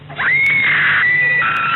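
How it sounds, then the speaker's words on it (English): Shrill, sustained scream from a spooky horror-theatre promo, holding one high wavering pitch for nearly two seconds, loud and close with no talk. "Practice your screams."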